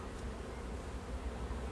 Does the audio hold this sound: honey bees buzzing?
yes